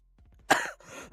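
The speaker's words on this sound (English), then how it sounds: "I say this as I'm coughing." A person coughs sharply a couple of times at close range, preceded by faint throat sounds, with a short burst of breath trailing after.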